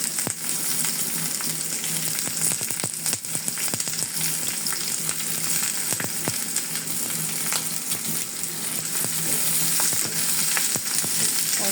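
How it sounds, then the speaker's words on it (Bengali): Chopped onions and garlic frying in oil in a pan while cooking beef nihari, a steady close sizzle with occasional crackles and stirring scrapes, no talking. "পেঁয়াজগুলোকে লাল করে ভেজে নেব।"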